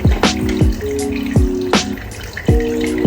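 Water is poured into a bowl at home, with splashy drips and trickles arriving in several short bursts over a steady background, fairly close and alone.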